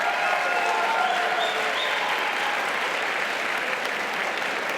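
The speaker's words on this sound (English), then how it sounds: "Give yourself a round of applause." Students at a simulated national political convention give themselves a round of applause, a continuous, dense wash of clapping from a large room that holds steady throughout.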